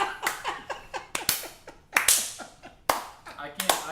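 Sharp, close hand claps in an irregular series of about a dozen slaps, some single and some doubled, loud and dry with room talk and laughter between them.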